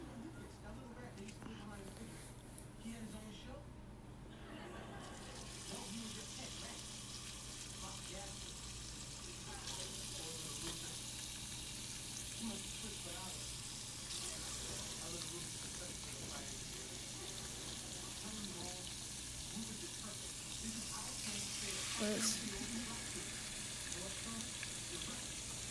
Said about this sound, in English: this is just me putting the meat into the pan